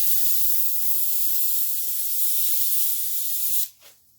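Steady aerosol spray paint hissing close up while model railroad track is painted, a continuous broad hiss for about three and a half seconds that cuts off abruptly, followed by a brief fading tail.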